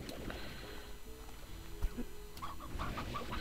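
Chickens cluck in the video game Slime Rancher, short clucks scattered through a busy game soundscape with a brief thump, somewhat faint under other game noise.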